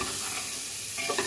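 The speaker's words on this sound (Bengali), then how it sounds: "সবজিগুলো ভেজে নিচ্ছি প্রেশার কুকারে" Vegetables for khichuri, with onion, garlic, cardamom, cinnamon and bay leaf, sizzle and fry in a pressure cooker as they are stirred. A close, steady hiss runs under light scraping of the stirring.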